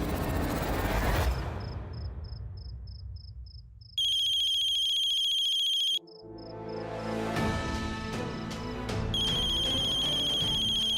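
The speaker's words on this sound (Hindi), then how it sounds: "ये पक्का कोमल का फोन" A phone ringtone plays in a Hindi TV serial, electronic beeping tones in bursts with a brief gap, alongside dramatic music swells and a sustained high tone.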